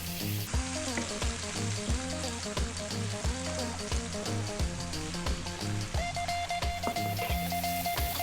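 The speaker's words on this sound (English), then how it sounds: "those onions and garlic cooking really nicely" Chopped onions and a tablespoon of garlic fry over medium heat in a pan for a chicken pasta, giving a steady close sizzle with faint stirring and no voices.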